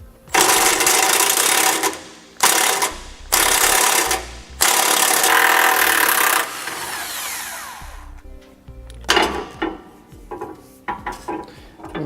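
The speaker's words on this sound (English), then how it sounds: "We're using an 18mm socket to remove it." An 18mm socket wrench works a sway bar bolt loose on a 2015 Winnebago Minnie Winnie motorhome, giving loud bursts of rapid ratcheting in several separate runs, then scattered metallic clicks and clanks.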